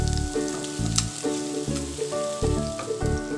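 Tilapia pieces fry in a pan of oil, a continuous close sizzle with bursts of spitting as the fish is repeatedly turned, alongside some clanking of the pan.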